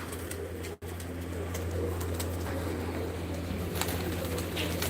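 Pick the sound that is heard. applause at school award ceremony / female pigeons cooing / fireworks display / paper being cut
female pigeons cooing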